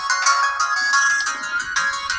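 A cell phone rings with a bright electronic ringtone, a loud continuous melodic tone pattern heard close up with no talking over it.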